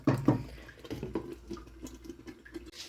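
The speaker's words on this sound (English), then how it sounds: "So in next goes our boiling water." Boiling water from a kettle poured into a pan of beef curry, a wet splashing and trickling pour that runs steadily for a few seconds at close range with no talk.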